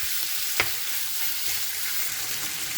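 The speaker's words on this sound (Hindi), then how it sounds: "और इसको हल्के से फ्राई करेंगे।" About a quarter kilo of chicken lightly frying in oil for tacos, a steady soft sizzle throughout with one sharp clink of a utensil early on, no voices.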